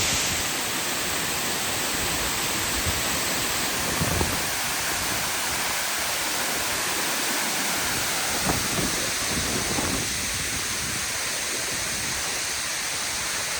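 Water pours continuously over the Derwent Reservoir overflow in the Upper Derwent Valley, Peak District, a broad steady roar of falling water, loud and unbroken from start to finish with no voices.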